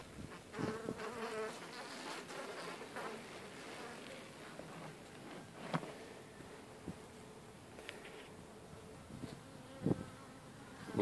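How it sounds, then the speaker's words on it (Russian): Honey bees leaving the hive on their first spring flight in March, a continuous close buzzing of many insects with soft rustling and a few faint clicks, no voices. "Вот семейка, показались первые пчелки."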